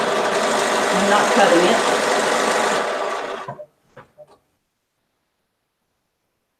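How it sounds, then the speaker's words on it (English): Sewing machine joining the first two rows of a mystery quilt, a loud close steady whir for about three seconds that slows and stops, followed by a few small clicks, with a person speaking briefly. "So I'm sewing this all first 2 rows together."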